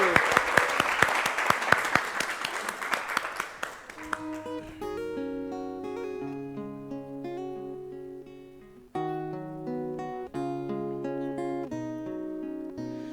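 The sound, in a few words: applause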